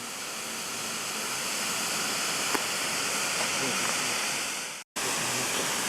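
A DM-11 smoke grenade burns with a steady, loud, broadband hiss like rushing water, cutting out for a split second near the end before resuming.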